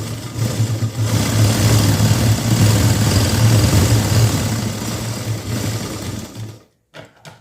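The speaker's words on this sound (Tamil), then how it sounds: "கட் பண்ணிவிட்டு இந்த ஓரமாக ஒரு தையல் அடிச்சுக்கோங்க" A tailoring sewing machine runs a continuous, loud, fast-whirring stitch along the seam of a lining blouse for several seconds, then stops, leaving a few faint clicks.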